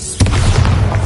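The Bombarda explosion spell is cast in Hogwarts Legacy, a sudden loud boom followed by a rumbling, crackling burst that holds for the rest of the short moment.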